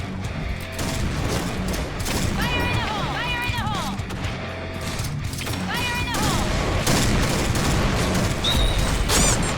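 Barrett sniper rifle shots in the Point Blank online shooter, loud repeated gunfire and booming impacts throughout a busy match, with excited voices talking over the action.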